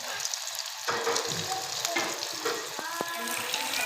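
Chicken crispy bread rolls deep frying in hot oil give a steady, close crackling sizzle. A few brief scrapes and clinks from a utensil against the pan rise out of it.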